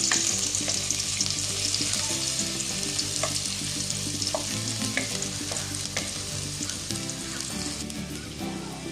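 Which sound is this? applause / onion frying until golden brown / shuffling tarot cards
onion frying until golden brown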